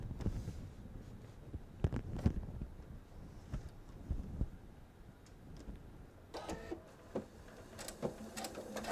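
A sewing machine stitches a handmade bag in uneven bursts of rapid mechanical whirring and clacking, with short pauses between runs and a faster stretch near the end.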